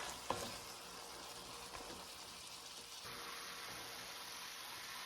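Ground beef with shrimp, onions and black pepper frying in oil while being stirred, a steady close sizzle with scraping stir strokes and a brighter hiss rising after a few seconds, no talk.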